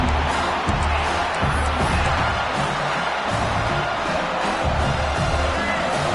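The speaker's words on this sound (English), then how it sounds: "Listen to the crowd energy here in the early going." A large football stadium crowd roars and murmurs continuously during a USC game, a dense wall of cheering and chatter with no break.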